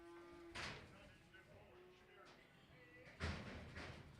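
Cattle at a livestock auction in a stockyard, with a low moo and a couple of dull knocking bangs over steady background murmur and faint talk, all rather quiet and distant.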